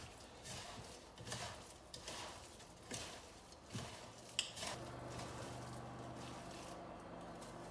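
Minced meat kneaded by hand with two eggs for Liège-style meatballs: soft, wet squishing and slapping in an irregular rhythm, quiet and close, with no talk.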